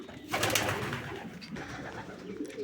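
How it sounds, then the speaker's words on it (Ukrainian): Marbled homing pigeons coo close by in a loft, soft throaty calls rising and falling over a light background murmur. "Ось це їхні перші голубенята. Червоне і рижомраморне."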